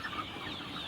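Soft, steady clucking from a group of chickens perched up high, fairly faint and continuous.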